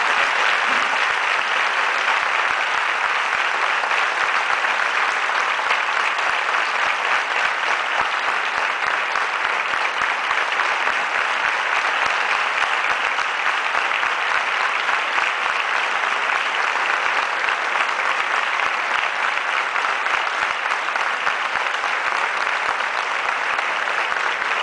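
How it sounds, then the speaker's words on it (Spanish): Sustained, dense audience applause after a military band concert in San Javier, an even wash of clapping from a large crowd lasting about twenty-five seconds with no talk over it. "Y ahora se merecen un fuerte aplauso."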